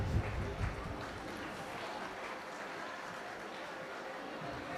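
Steady applause from a mushaira audience at a school event in Ghazipur, a dense even patter of many hands heard from some distance, holding at a constant moderate level throughout.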